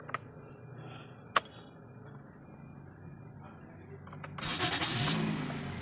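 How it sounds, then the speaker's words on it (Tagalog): Toyota Vios engine cranking and catching in a garage, a faint low rumble rising into a louder idle toward the end, with a sharp click near the start and quiet talk underneath. "So ato sa testingan mga kauto."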